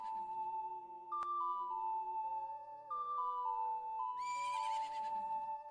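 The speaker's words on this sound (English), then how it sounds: "play with Epona the horse" Epona, the horse in the video game Ocarina of Time, gives a bright whinny near the end, over a steady, tuneful in-game melody that plays throughout.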